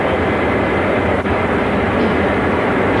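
A train running at 125 mph on the approaches to Newark gives a loud, steady, broadband rumble and roar that holds evenly from start to finish, with no voices over it.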